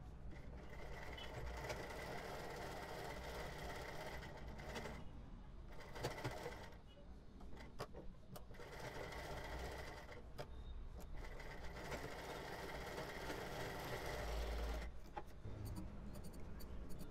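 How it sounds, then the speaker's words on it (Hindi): A sewing machine stitches folded fabric for the boat neck of a kurti, a continuous loud mechanical whir with a few brief pauses and some faint voices in the background. "अब ये कपड़ा यहाँ पे फोल्ड करके मुझे सिलाई करनी है।"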